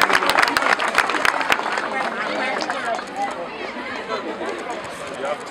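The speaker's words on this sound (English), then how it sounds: "Put your hands together for him." Crowd at a children's event in Sunyani applauding footballer Afriyie Acquah, with sharp claps and bustle at first, then fading into a busy murmur of crowd chatter and talking.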